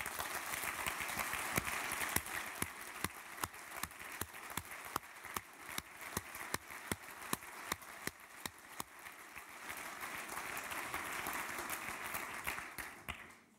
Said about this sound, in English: the applause was not just for you, Philip, it was for the whole team